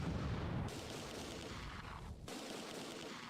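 Gunfire in the Close Combat 2 war game strikes a building, a rolling, muffled barrage of distant shots and impacts blending into a steady roar with no clearly separated reports.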